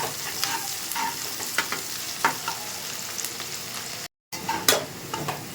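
Onion fries in a pan for a rohu fish curry with cauliflower and potato, giving a continuous close sizzle with frequent scraping stirs and light clinks and a brief dropout near the end, no talking.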